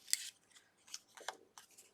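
Scissors snip through paper while trimming pieces for a pink and yellow mixed media card, several quick close cuts in an uneven rhythm, with no talking.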